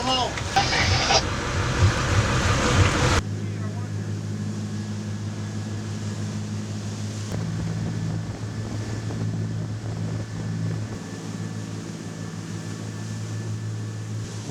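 A fishing boat's motor drones steadily over rushing water and wind at San Carlos, loud and continuous, with a brief burst of louder noise at the start.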